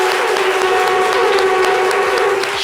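A studio audience on a French-language TV show applauds the television crew, a loud, unbroken wash of clapping and crowd noise close by, with a steady tone running underneath.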